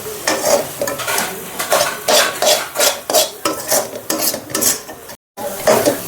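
Chili powder being stirred into an Andhra-style amaranth leaf and moong dal fry in a pan, a spoon scraping in a steady rhythm of close, repeated strokes with faint sizzling, alone with no talk and one brief pause near the end.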